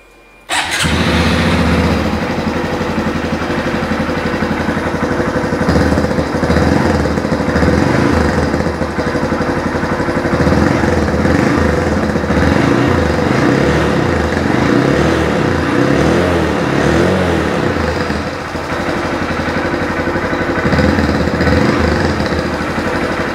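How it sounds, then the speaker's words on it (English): A Honda MSX125 motorcycle with about 1,988 miles fires up after a brief start and settles into a steady, loud, close-up idle that runs unbroken, with a slight dip near the end. "Okay, let's start this up and listen to it run."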